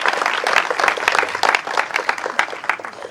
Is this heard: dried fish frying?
no